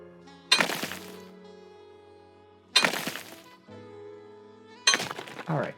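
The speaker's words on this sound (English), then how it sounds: "Now, you're gonna play the little tappy tap game." Three sharp cracking taps on a gem in a tapping minigame in the video game Trash Goblin or Gemporium, spaced a couple of seconds apart, each followed by a ringing, shimmering tone that lingers and fades.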